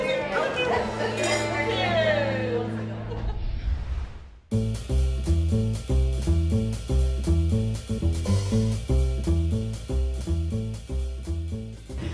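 Glasses clink in a celebratory toast at a relaxed restaurant, a bright chink over lively voices and chatter, then music takes over.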